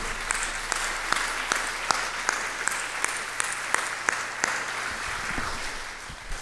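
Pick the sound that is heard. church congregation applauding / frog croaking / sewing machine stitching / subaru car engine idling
church congregation applauding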